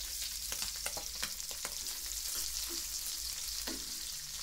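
Onions sizzle and fry in a pan for an okra dish, a steady hiss with occasional stirring clicks and scrapes, close and continuous.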